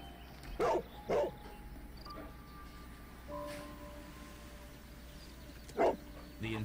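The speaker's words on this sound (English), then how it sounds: "And we're gonna go woof woof." Dog barks in the Sherlock Holmes: Crimes and Punishment video game, with two quick barks close together near the start and another a few seconds later, over a low background hum and faint game tones.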